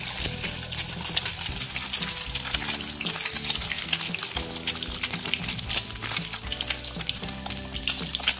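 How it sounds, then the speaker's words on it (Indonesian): Eggs frying in a pan for balado telor ceplok, a dense crackling sizzle with popping spatters throughout, loud and close, with faint music underneath and no speech. "Yang pasti kita akan ceplok dulu telur ini ya."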